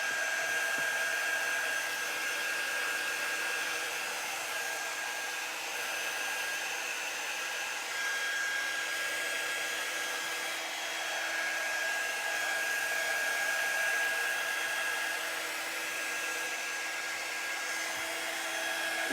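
A hair dryer blows on craft work to dry it, a steady whirring hum with a constant whine that runs unbroken for about twenty seconds, close and loud, with no talking.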